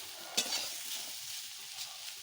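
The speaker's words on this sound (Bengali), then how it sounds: "ভাজা প্রায় হয়ে এসছে" Banana slices frying in oil with nigella seeds, green chilli, salt, turmeric and cumin paste give a steady soft sizzle with a brief louder stir near the start and faint scraping later.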